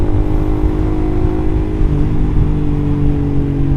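Steady engine note from a Suzuki GSX R150 fitted with an R9 Mugello exhaust, close and loud, a deep continuous drone with a slight pitch change partway through.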